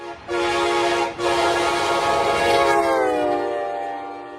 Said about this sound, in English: most commonly, K5LAs are found on passenger trains or passenger equipment